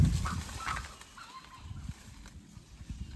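A loud bird calls out at a mango orchard in Devgad during harvest, rough cackling bursts near the start followed by scattered softer calls over a noisy outdoor background.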